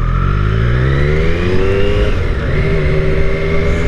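A Triumph Street Triple motorcycle in Carbon Black creeps along at very low speed, its engine note loud and close with a steady drone that rises slightly in pitch, heard alone.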